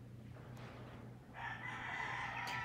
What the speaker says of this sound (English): hear the chickens in the background